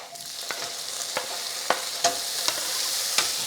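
Tomato and garlic stirred into golden frying onions in a pan, with a soft steady sizzle broken by sharp scraping and stirring clicks at irregular intervals, close and fairly quiet.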